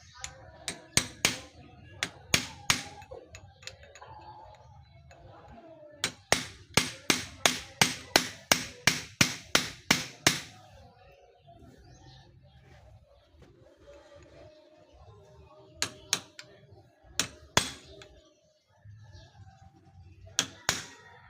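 Sharp metallic hammer strikes ring out in quick runs on a tight lock part of a Suzuki DA64W, including a steady burst of about a dozen blows, then sparser taps with quiet handling noise between.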